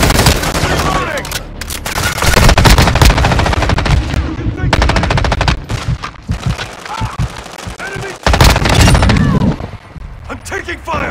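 Dense, loud machine gun fire in Call of Duty Modern Warfare, rapid bursts layered with other gunshots and explosions, with voices shouting over the firefight.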